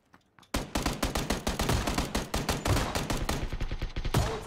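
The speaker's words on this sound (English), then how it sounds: "I'm gonna have to run up with the shotgun" Rapid volleys of gunfire in the battle-royale game PUBG, shotgun blasts among fast repeated shots, loud and close, continuous for about four seconds after a brief quiet start.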